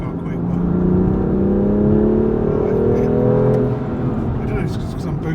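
BMW M2 Competition F87 with its S55 engine and a carbon intake, accelerating hard in a steady, loud rising drone for several seconds before easing off, with a voice talking over it.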